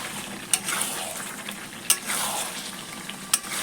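Chicken curry sizzles in a pan while being sautéed, with a steady frying hiss and three sharp scraping strokes of a spatula spaced about a second and a half apart, close up, with no talking.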